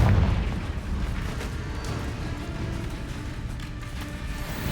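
A Confringo fire spell goes off in Hogwarts Legacy with a deep booming thump at the start, followed by a sustained low rumble and rolling noise that slowly settles.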